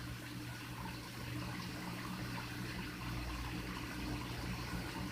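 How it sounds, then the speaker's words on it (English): A shower runs steadily for a pet goose, a constant dense hiss of falling water with a low hum beneath, unbroken throughout. "Pretty Bird's going to get out of the shower here in a few minutes"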